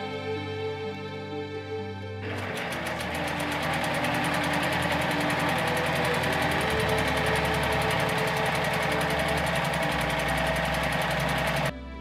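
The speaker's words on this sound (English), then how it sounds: "Once they're all pinned together, I'm going to sew up all of the seams by machine." A sewing machine stitches the seams of a pinned Italian Renaissance gown skirt, starting after a short quiet lead-in and then running as a steady, fast, continuous mechanical whir until it stops near the end.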